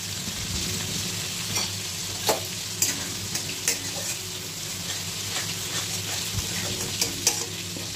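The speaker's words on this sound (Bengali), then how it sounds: "কাজু পেস্টটা দিয়ে ভালো করে মেশাতে হবে।" Cashew paste and curry leaves being stirred in a hot frying pan: continuous close sizzle of oil with intermittent scraping and light clinks of the spoon against the pan.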